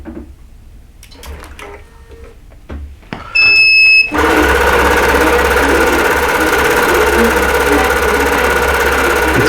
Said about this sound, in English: I'm just going to keep raising the needle and hitting start and letting it go across and do those